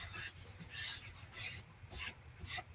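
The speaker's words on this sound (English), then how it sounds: "I am going to wipe it all down with my embossing buddy" An embossing buddy pad is wiped across cardstock in a few soft, repeated rubbing strokes, quiet and close, with a gentle brushing texture and brief pauses between passes.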